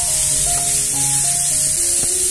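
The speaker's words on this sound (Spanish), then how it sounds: "Esta la vamos a freír un poco." Constant loud hissing sizzle of meat frying in hot oil in a pan, with a faint background melody underneath.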